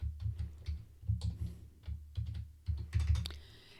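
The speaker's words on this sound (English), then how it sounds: "I'm going to go up to my name box and I'm going to type in A2:E200." Fast bursts of typing on a computer keyboard as a cell range is entered into a LibreOffice Calc spreadsheet, quiet clustered keystrokes in several short runs with brief gaps, close and clear, with no talking.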